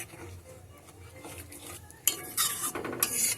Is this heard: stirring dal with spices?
yes